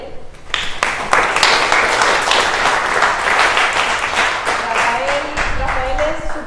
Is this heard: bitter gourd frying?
no